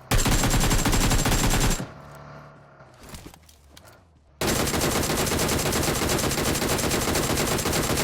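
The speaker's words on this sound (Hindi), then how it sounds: "तो जैसे मैं फ्री फायर मारता हूँ डासिया पे" Automatic gunfire in the mobile game PUBG Mobile, aimed at a Dacia car: loud, dense rapid bursts that break off for a couple of seconds of quieter game ambience, then resume at full intensity.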